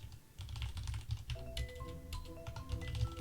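Fast typing on a computer keyboard, a close, steady patter of quiet key clicks running throughout with a faint tonal sound in the background.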